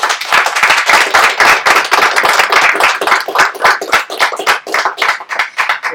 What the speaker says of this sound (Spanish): Entonces les pido un aplauso para Yuri.